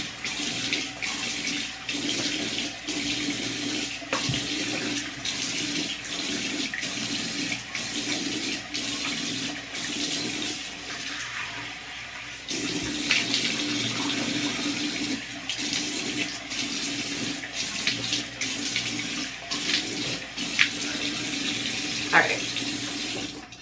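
Tap water runs steadily from a bathroom sink while someone rinses soap off their face, a continuous close splashing hiss with small shifts in flow and brief louder spatters, no talking.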